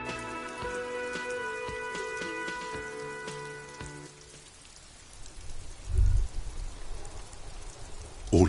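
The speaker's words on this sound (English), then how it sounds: "All around you, rain falls on the great city of Rivershore." Rain patters and drips steadily on a city in the video game Disco Elysium, at first under sustained musical tones that fade out, leaving the rain alone with a few heavier low thumps.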